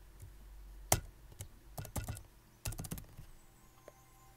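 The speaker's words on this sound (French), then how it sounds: "Je sais pas comment on écrit Émeraude. Alors je vais l'écrire encore mieux" Someone types a name on a computer keyboard, quiet scattered key clicks in short bursts with gaps between them, close by and alone against a faint background hum.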